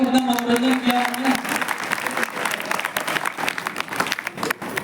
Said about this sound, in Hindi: अरे भाई तो तालियां तो बजाओ,